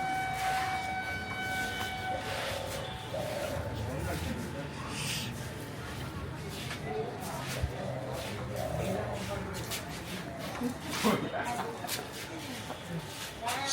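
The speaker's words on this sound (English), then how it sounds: "Oh, that's the sound of a train coming." A Kolkata local train approaches, sustained horn-like tones and rumbling rail noise building over a busy, noisy background with scattered clanks and a sharper burst near the end.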